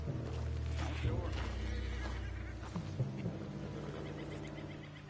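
A horse in the video game Red Dead Redemption 2 gives a loud, drawn-out whinny, then snorts and shifts, with game sounds and a voice speaking around it.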